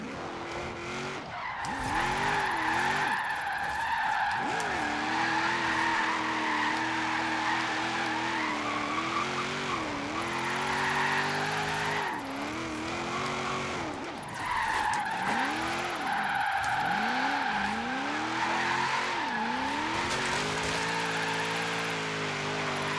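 Forza Horizon 3 car drifting with sustained tire skidding and squeal over a steady revving engine, loud and continuous, with no talk.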